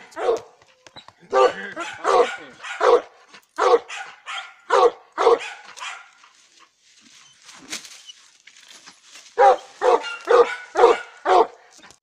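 A young female hunting dog, about a year and a half old, barking outdoors on a coon hunt, loud repeated barks in irregular bursts with a whimpering gap in the middle.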